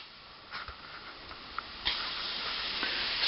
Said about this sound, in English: fry it in a pan there